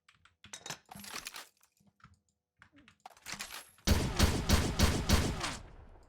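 Heavy machine gun in the RMC-14 game, the ML66, opens up in a sustained loud burst of rapid fire in the second half, after scattered clicks and brief quieter sounds.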